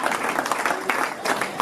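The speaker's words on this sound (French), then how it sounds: "on peut l'applaudir, lui et sa femme" Wedding guests applaud the bride's brother and his wife, a short burst of steady clapping from a crowd in a hall, with a voice faintly underneath.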